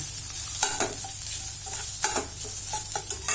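Grated coconut sautéed in a pan for a banana flower puttu, with a steady soft sizzle and repeated scraping strokes of a spoon stirring through it, close and alone without talk.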